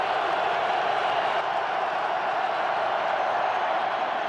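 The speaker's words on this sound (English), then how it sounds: "this crowd is pumped up again" Stadium crowd at an NFL football game, Giants at Redskins, roars steadily in a dense, sustained wash of cheering that fills the whole stretch without letting up.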